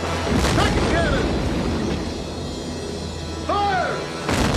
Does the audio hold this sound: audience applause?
no